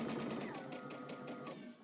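A sewing machine runs a seam up close at low volume, a soft, fast, even whirring chatter that continues throughout.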